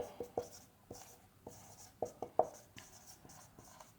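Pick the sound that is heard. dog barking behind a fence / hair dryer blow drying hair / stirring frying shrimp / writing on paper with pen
writing on paper with pen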